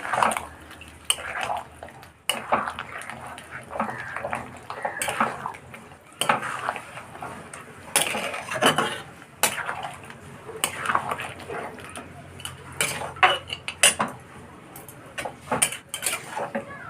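A utensil stirs and scrapes through food in a metal pan in a home kitchen, giving irregular clinks and scraping strokes at close range, with occasional sharper knocks against the pan.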